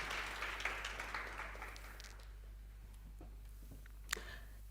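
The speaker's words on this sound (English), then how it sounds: "Shall we give her a round of applause as she makes her way to the stage?" An audience applauds at a Charlotte Maxeke Lecture event as a panelist walks to the stage. The clapping is faint and distant, strongest at the start, then fades into quiet room tone with one sharp tap near the end.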